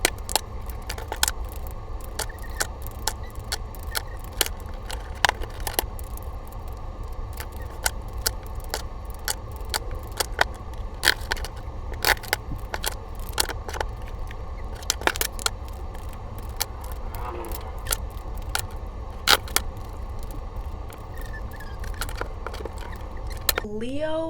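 Tarot cards being shuffled up close, a long run of crisp, irregular flicks and snaps over a steady low room hum.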